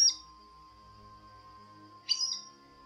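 Two short, bright bird chirps from wild birds in São Miguel do Iguaçu, Paraná, one at the start and one near the end, over a faint steady tone and otherwise quiet surroundings.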